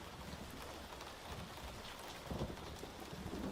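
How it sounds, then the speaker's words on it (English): Steady rain patters on a surface in the background, a soft even wash with a few louder drops, faint and continuous with no voice. "does the rain in the background sound okay?"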